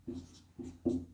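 Handwriting on paper while working a Class 10 maths test, three short scratchy strokes in quick succession, close and faint.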